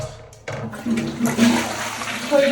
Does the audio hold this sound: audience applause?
no